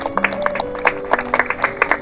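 Congregation clapping in a church service, a brief burst of scattered, fairly close hand claps with a voice faintly underneath.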